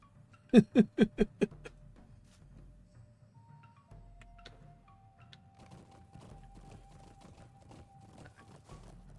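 Horse hooves in the online game LOTRO land in a quick run of five heavy, evenly spaced thuds up close, then fade to a quiet background with faint, sparse taps and a soft sustained tone.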